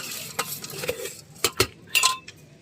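Jhalmuri puffed rice being tossed and mixed with spices at a street stall, soft rustling stirs punctuated by a few sharp metallic clinks and scrapes, close and intermittent, no talk.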